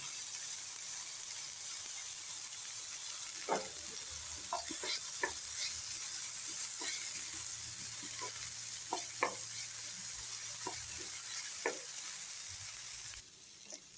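Two cut green chillies frying in a pan for a greens mallum, giving a steady soft sizzle with scattered sharp crackles and pops throughout, close and even.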